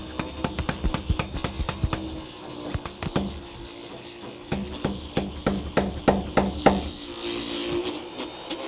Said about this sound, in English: I'm using this corner chisel to just square off the corners